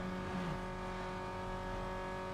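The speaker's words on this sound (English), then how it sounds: "Had to keep my revs pretty high there" A race car engine in Need for Speed: Underground 2 on PS2 holds a high, steady rev, a loud sustained droning whine with a slight pitch dip at the start, no talk over it.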